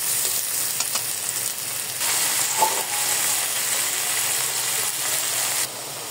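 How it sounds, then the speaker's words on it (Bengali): Hot oil sizzles steadily in a pan as food fries for a home-cooked egg, bean seed and green pea dish, a loud, continuous hissing crackle close by with a faint scrape partway through. "আর একটু ভাজবো।"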